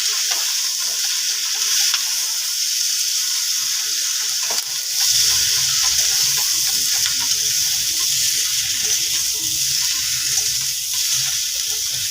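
Shukto, a Bengali curry of sweet potato, eggplant, drumstick and bitter gourd, sizzling steadily in a pan, a loud continuous frying hiss throughout with a deeper bubbling layer joining partway through.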